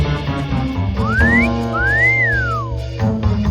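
A person whistles two rising-and-falling notes, like a catcall, over a low background hum.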